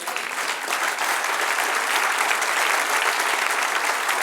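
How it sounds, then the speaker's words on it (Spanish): A church congregation gives steady, full applause, a dense wash of many hands clapping together that holds evenly throughout without speech. "Denle un aplauso al que vive."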